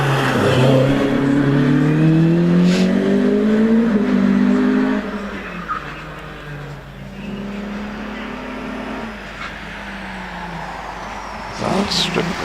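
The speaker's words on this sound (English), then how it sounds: "As away goes Harvey Waters in that 3 litre Sierra." A 3-litre Ford Sierra rally car pulls away up a hillclimb course, its engine loud and close, revving hard through rising gears before fading back to a steadier, more distant drone.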